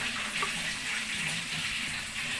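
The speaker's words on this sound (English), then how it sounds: "We're going to be pouring our palm oil." Palm oil poured into abacha, an African salad of shredded cassava, making a steady, continuous close-up gush of liquid that runs unbroken the whole time with no speech.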